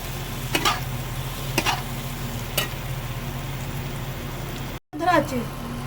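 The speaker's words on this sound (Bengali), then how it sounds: "এটাকে নাড়িয়ে চাড়িয়ে লাল লাল করে আমি ভেজে নেব।" Soybean chunks frying in hot oil in a kadai, stirred with a spatula: a constant sizzle broken by three sharp scraping strokes, a brief dropout, then a final clattering stir, close and without talk.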